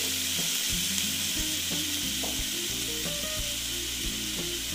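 Onions frying in a pan for a Bengali chital fish kalia: a continuous bright sizzle of hot oil running steadily throughout, with faint low scraping and clinks beneath it and no talking.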